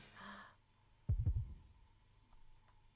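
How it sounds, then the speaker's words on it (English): Heartbeat effect from the visual novel Root Double: one close double-thump beat pulsing a few times in quick succession, loud and low, after a brief tone, then fading to near silence. "Heard the beating of a heart."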